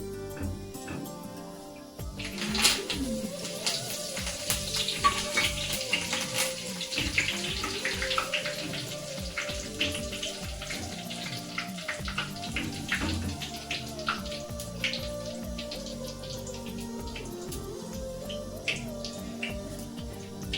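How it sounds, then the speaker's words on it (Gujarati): Curry leaves sizzle and crackle in hot oil while a savoury chevdo snack is fried, with a steady hiss of bubbling and sharp pops and spits throughout. "લીમડાના પાન તળી દઈએ આપણે."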